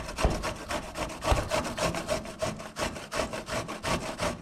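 Two apples with the skin left on being grated, a loud, close, continuous rasping scrape repeating in quick back-and-forth strokes, with no talking.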